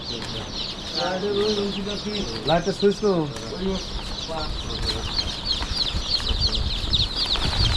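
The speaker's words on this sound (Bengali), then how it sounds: "দেখেন কি ধরনের দেশি মুরগি বাচ্চাগুলো দিচ্ছি আমরা" Native deshi hens and chicks at a hatchery farm, with steady high cheeping from many chicks and a hen's clucks mixed in. Someone speaks over the birds, and the noise stays dense and close throughout.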